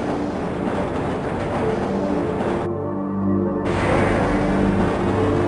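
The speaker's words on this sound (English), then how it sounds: "This train is inbound from Level 3 dormitories to Sector C test labs and control facilities." The Black Mesa tram in Half-Life rumbles steadily along its track, a loud continuous mechanical drone with humming tones and a brief muffled stretch midway.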